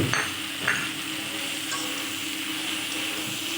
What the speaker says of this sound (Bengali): কাঁঠালের বিচি ভালোভাবে কিছুক্ষণ নেড়ে চেড়ে নেব দিয়ে দিচ্ছি ভেজে রাখা আলু